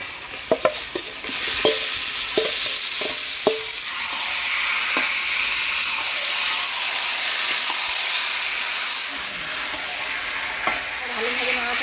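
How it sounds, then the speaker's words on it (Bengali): Marinated chicken pieces hit hot oil with softened onion and chopped tomato in a pan, giving a steady loud sizzle broken by several sharp scraping stirs early on and one near the end, with no voices. "এবার মাখায় রাখা মাংস দিয়ে দেবো।"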